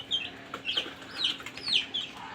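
Several chickens kept in a cage cluck in short, bright bursts spread across the moment, fairly close and moderately loud with no talking.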